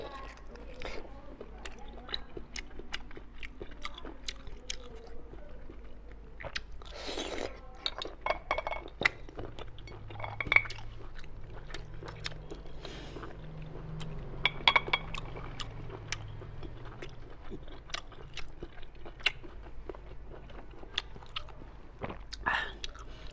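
Close, quiet ASMR eating of a cleaned conch sea snail: repeated crisp bites, wet squishy chewing and occasional faint clinks, spread across a long stretch with no talking.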